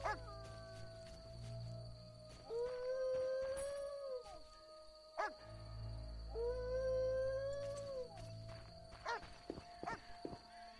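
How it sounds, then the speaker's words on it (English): An ordinary dog in the video game The Witcher howls twice in long, wavering drawn-out cries, with game ambience, footsteps and sharp clicks around them. "That's a normal dog"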